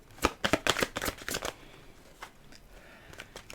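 Tarot cards shuffled in a quick burst of crisp riffling slaps, then quieter scattered taps and rustles as the deck settles. Close and clear, no talking.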